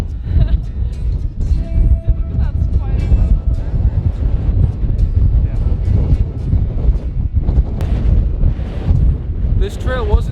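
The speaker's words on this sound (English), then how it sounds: "Oh, it's so windy." Strong wind gusts across a frozen outdoor trail, roaring into the microphone in a continuous low rumble. A person's voice comes through faintly at times under the wind.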